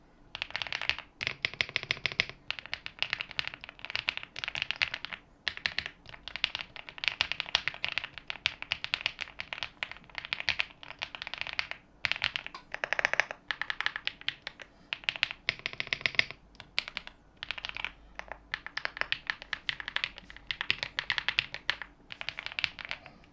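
Keys clacking on an Epomaker Galaxy 68 mechanical keyboard, close-up, in fast irregular bursts of typing with brief pauses, steady and fairly loud throughout with no talking.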